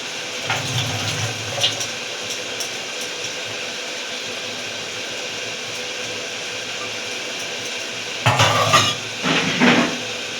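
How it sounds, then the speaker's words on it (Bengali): A spatula stirs lote fish curry in a kadai. There is a low bubbling simmer throughout, with a few louder clattering scrapes of metal on metal near the start and in bursts toward the end, and no talking. "কড়াইটাকে এরকম নাড়িয়ে খুন্তি দিয়ে আলতো করে এরকমভাবে নাড়া দিতে থাকবো"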